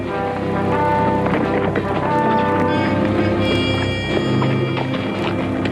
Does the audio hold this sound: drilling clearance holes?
no